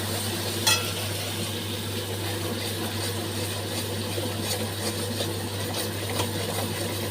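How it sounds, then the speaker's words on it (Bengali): A spatula scrapes and stirs spice paste stuck to the sides of a wok while bhetki fish tel jhal cooks, with a soft sizzle over a steady low hum and no talking. "যে মশলাটা ওতে লেগে গেছে কড়াইয়ের গায়ে মশলাটাকে আমি সব ছাড়িয়ে নেব"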